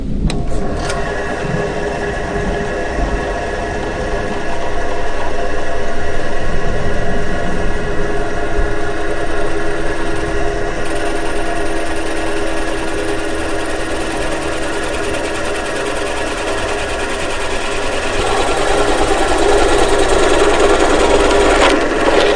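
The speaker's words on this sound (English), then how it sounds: "So we're going to make an incision so that we can clean this fruit up." A steady motor drone runs for over twenty seconds as a small power tool cuts an incision into a whole calabash fruit, holding a fairly loud, even whine with no one speaking.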